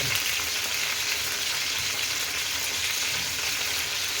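Tomatoes and green chillies fry in hot oil, a dense, constant sizzling hiss close by with faint low rumble beneath, unbroken for the whole stretch.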